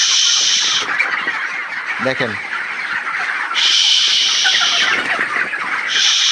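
Chickens roam freely around their coop, giving scattered clucks and short calls amid a steady high outdoor hum, while someone speaks nearby.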